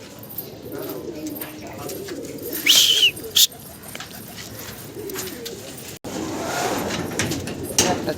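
Roller pigeons coo softly in the background amid ambient noise, with a couple of brief sharper calls or knocks mid-way and a fuller rush of sound toward the end.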